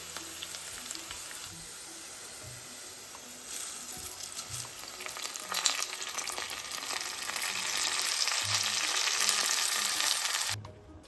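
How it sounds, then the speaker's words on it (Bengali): Onions fry with cinnamon in a pan until browning, producing a soft, steady sizzle that grows denser and louder before cutting off abruptly near the end, with a few scrapes and knocks along the way. "এগুলো আমি এখন পেঁয়াজটা ব্রাউন হওয়া পর্যন্ত ভেজে নিব।"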